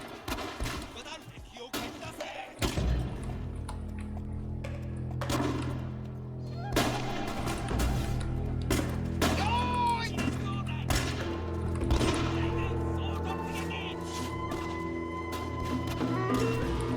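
Battle gunfire in the video game Gekokujō, set in the Sengoku period of 1565: repeated sharp gunshots, some single and some in quick volleys, crack out over steady droning game sound and a sustained tone for the whole stretch.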